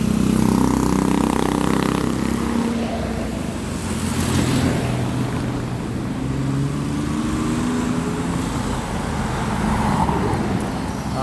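Cars, motorcycles and buses pass on a busy street outside a used car lot from both directions, engines swelling and fading one after another in a constant roadway rumble.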